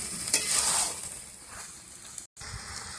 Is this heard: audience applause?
no